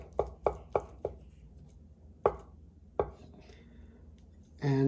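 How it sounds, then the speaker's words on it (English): A knife chopping a boiled egg on a cutting board, several sharp close taps in a quick cluster, then a few slower single chops, ending in a rustle. "I'm going to just take an egg, cut it in half, and give it a rough chop"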